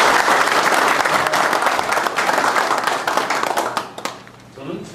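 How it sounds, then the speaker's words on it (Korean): Warm applause for a candidate fills a Gyeonggi Taekwondo Association president election event, dense clapping from a sizeable crowd that thins out and fades after about four seconds, leaving a quiet tail with faint room sound. "우리 박홍만 후보에게 뜨거운 박수 한번 부탁드립니다."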